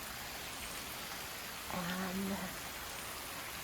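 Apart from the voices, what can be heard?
heavy rain pouring outdoors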